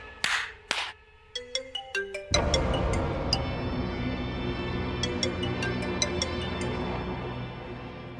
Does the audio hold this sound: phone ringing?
yes